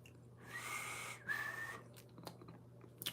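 A person whistles two breathy, rising notes up close, the second sharper than the first, followed by a few small clicks and mouth noises.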